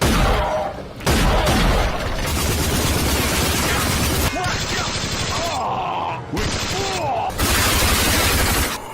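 Weapons firing in an id Software first-person shooter: dense, loud gunfire and impacts over a busy game soundtrack, with short breaks between bursts.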